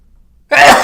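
A single loud, close sneeze bursts out after a brief quiet moment, sharp onset trailing into a breathy release.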